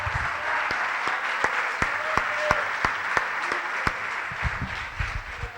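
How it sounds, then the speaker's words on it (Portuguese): A church congregation claps in a loose, steady rhythm of sharp individual claps over a soft crowd murmur, moderately close. "Vamos aplaudir a Jesus."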